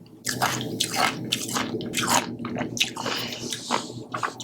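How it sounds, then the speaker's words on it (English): Ice from an iced tea is crunched between teeth in a run of sharp, wet bites, about eight distinct crunches, very close and loud with no talking. "I love crunching ice so much."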